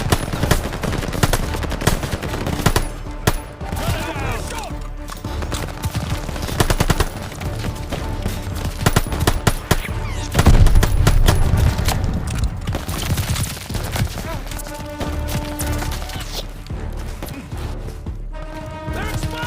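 Sustained machine gun fire pours onto a retreating German half-track during a World War II airborne battle in Call of Duty Vanguard, dense and loud, with bursts and other gunfire overlapping battlefield noise and shouted voices throughout.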